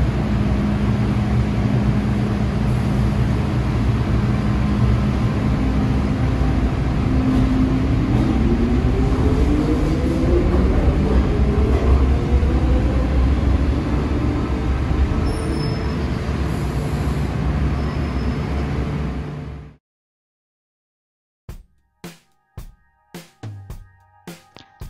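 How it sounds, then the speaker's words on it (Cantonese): Hong Kong MTR M-train accelerating, a steady rising whine from its chopper control shifting into DC traction motor hum over loud rumbling running noise, then cutting off abruptly with a few scattered clicks after. "列車加速時，列車會先發出斬波器嘅聲音，隨後列車加速嘅時候會逐漸變成直流馬達嘅聲音"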